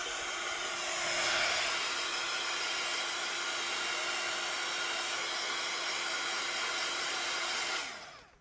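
A heat tool or dryer blows a steady, loud, close whoosh of air for about eight seconds while drying a stencil, then winds down at the end, with no talking.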